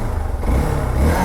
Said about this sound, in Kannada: ಆ್ಯಂಡ್ ಬೈಕ್ ಆಯಿತು ಕೋಲ್ಡ್ ಸ್ಟಾರ್ಟ್